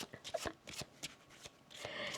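Playing cards shuffled by hand in a quiet room, a run of soft, papery riffling bursts that repeat at an irregular rhythm, close by and fairly faint.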